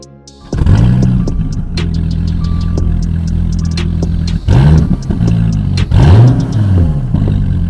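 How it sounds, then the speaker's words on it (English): A 2017 Dodge Viper ACR engine fires up with a loud bark, settles into a deep rumbling idle, then blips into sharp revs twice near the end, close and without voices. "We're gonna close the engine bay now and fire it up for you guys so you can hear this beast of an engine."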